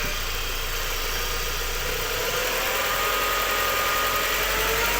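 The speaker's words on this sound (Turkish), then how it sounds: "Şu anda motor soğuk. Hafif gaz ver." A cold car engine runs on light throttle with a steady, even mechanical drone and a broad hiss, heard close up with no voices.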